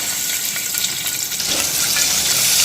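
Sliced onions fry in hot oil for tomato biryani with a loud, dense sizzle that swells slightly as they are stirred, close up and steady with no talking.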